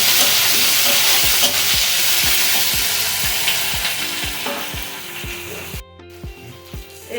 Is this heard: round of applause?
no